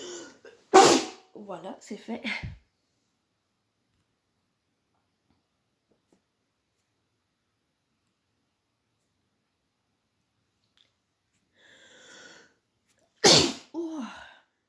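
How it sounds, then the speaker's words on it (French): A person sneezes loudly and sharply up close, a short burst followed by a few seconds of quiet, then a second forceful sneeze near the end, with brief speech in French between. "J'ai envie d'éternuer."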